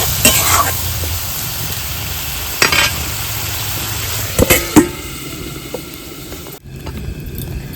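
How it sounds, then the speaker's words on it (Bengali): Water poured into a hot pan while cooking filling for an egg chicken roll, a sizzling hiss with a few sharp bursts and clatters, then a sudden cut to quieter, lower background hiss. "একটু জল দিচ্ছি, দিয়ে ঢাকা দিয়ে রেখে দেবো সেদ্ধ হওয়ার জন্য।"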